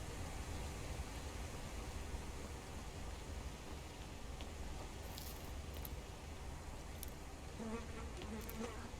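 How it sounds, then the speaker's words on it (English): A bee buzzes in the Skyrim video game, a steady droning hum running continuously under a soft noisy bed, with faint clicks near the end and no talk. "Bee?"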